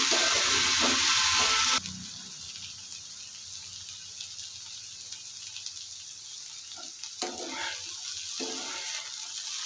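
Okra and tiger prawns fry dry in a pan with no water added: a loud, close hiss for the first two seconds that drops to a quieter crackle with occasional bursts of sizzle.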